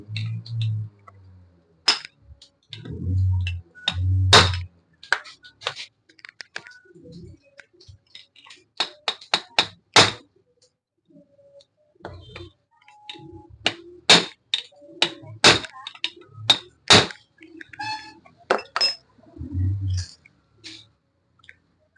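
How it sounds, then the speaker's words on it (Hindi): Metal rod hammered against the threaded head of a Texmo submersible motor to loosen it, a series of sharp, close metallic strikes in irregular bursts with quiet gaps between, a few dull thumps mixed in. "तो आपको रोड की मदद से यहाँ पे मारना है और फिर इसके थ्रेड को ढीला"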